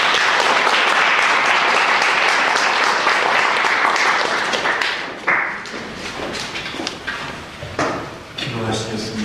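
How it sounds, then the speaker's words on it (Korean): Church congregation applauding to welcome a visiting pastor at a Sunday worship service in Paris, a loud sustained clatter of many hands that drops off midway, followed by scattered claps, bumps and a voice beginning to speak. "우리 목사님 박수로 맞겠습니다"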